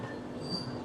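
The Swarna Jayanti Express runs at speed near Vijayawada station with a continuous rolling rumble and a thin metallic wheel whine, steady and fairly close, no talking.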